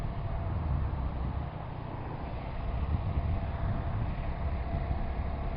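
A 2020 Honda Grom MSX125 motorcycle engine labours uphill in 4th gear at about 40, a steady low drone blended with heavy wind rush from riding, continuous and without speech.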